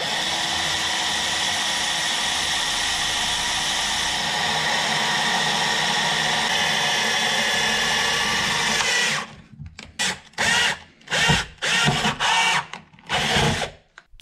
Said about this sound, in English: drilling out around the spot weld with a spot weld cutter